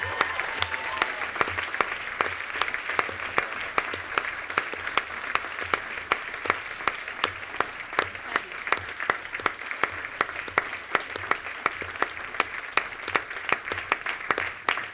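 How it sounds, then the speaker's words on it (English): Sustained applause from a conference audience honoring Phillip Agnew at the Bertha Justice Conference keynote, dense steady clapping lasting throughout without pause, moderately distant and even in loudness. "One more round of applause, please"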